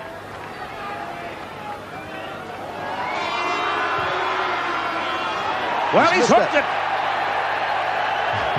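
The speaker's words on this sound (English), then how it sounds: "Listen to the crowd. They're cheering the miss by Michael Lynagh, the world's greatest goal kicker." Rugby stadium crowd at a 1991 Rugby World Cup match between Australia and Western Samoa, a broad distant roar swelling into cheering after a missed goal kick, with a commentator talking over it.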